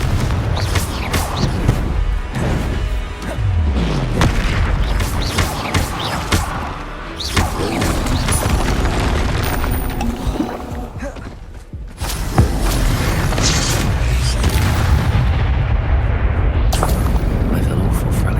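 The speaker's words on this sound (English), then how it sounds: "Confringo!" Confringo explosion spells in the video game Hogwarts Legacy, several heavy booms and thuds scattered through a busy fight with footsteps and impacts, loud and close, with a voice talking over the action.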